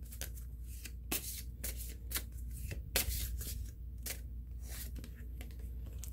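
Cards from a shuffled deck being handled and drawn, a series of crisp, close paper flicks and snaps at irregular intervals over a quiet background.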